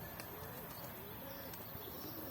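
Soft cooing of pigeons flying outdoors, faint and partly buried under steady background hiss, with a few scattered chirps.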